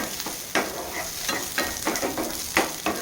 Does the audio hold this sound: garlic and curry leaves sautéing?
yes